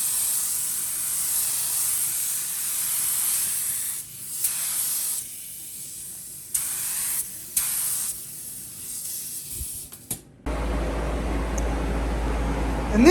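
A spray gun lays a coat of pearl paint onto a Honda Civic with a long, steady hiss that stops briefly several times between passes, then gives way to a different, steadier hiss with a low hum.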